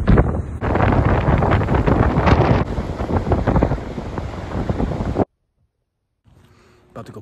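Loud, blustery wind buffets the microphone for about five seconds, then cuts to near silence, with a faint low hum at the very end.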